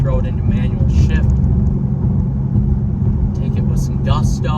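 A Chrysler 300 SRT8 muscle car is pushed through a corner in manual shift mode, a steady low engine rumble and road noise heard from inside the cabin while a person speaks over it.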